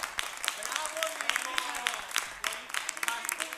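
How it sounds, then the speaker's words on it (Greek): A studio audience at a Greek midday stand-up comedy show claps in scattered, uneven bursts, moderately loud, with voices audible in the mix. "Ένα χειροκρότημα για τη γνώση."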